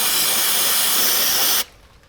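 A loud, steady hiss of penetrating spray aimed at a seized 19 mm bolt on a crashed Subaru Forester, lasting about a second and a half before cutting off abruptly.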